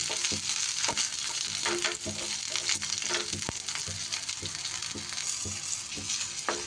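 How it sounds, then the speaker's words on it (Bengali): Cumin and other spices fry in a small amount of oil in a pan, a close, continuous sizzle broken by repeated scraping and stirring clicks. "এবার সব উপকরণগুলো একটু হালকা হাতে ভেজে নিতে হবে"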